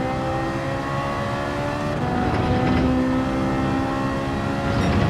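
A Ferrari race car engine in Gran Turismo 7 drones steadily at high revs, its harmonic whine shifting pitch mid-lap with a loud, continuous tone and no talking.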